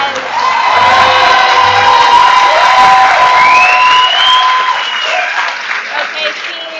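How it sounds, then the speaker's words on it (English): A graduation audience at a commencement ceremony claps and cheers in a sustained, dense wave of applause, with whoops and shouts rising above it and voices mixed in throughout. "Let's give them another round of applause."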